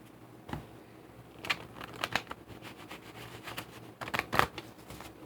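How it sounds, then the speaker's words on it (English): A deck of oracle cards is shuffled in a few quick, crisp bursts of riffling and snapping, close up, with quiet pauses between. "Okay, so most of your messages, 4 shuffles."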